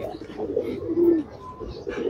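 Racing pigeons from a silver-generation loft coo steadily, a low throaty murmur with a few swelling notes and light chirps, no talking.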